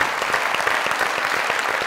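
Steady studio audience applause on a comedy talk show, a thick wash of clapping that holds at an even level throughout the short stretch with no voices over it.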